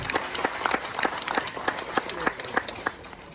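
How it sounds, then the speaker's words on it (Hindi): Audience clapping at the TEBW Lappa Welfare Society silver jubilee celebration in Arunachal Pradesh, with sharp claps falling in a fairly regular beat and sustained throughout. "उन सब के लिए बहुत जोरदार तालियां।"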